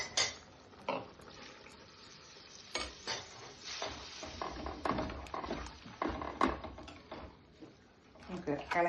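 Dried mackerel curry, Kerala style, stirred in a pan with a spoon, giving scraping, clattering strokes over a low simmering sizzle, fairly close and steady across the whole stretch.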